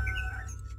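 A brief, bright bird chirp from a video game sounds over a low steady background hum, short and fairly clear.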